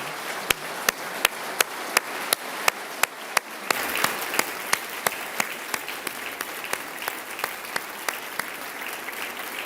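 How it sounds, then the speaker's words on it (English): A large audience applauds steadily at the Ohio governor's 2025 State of the State address. The clapping swells a little partway through, and crisp, evenly spaced clicks cut through it throughout. "let's give him a round of applause as well."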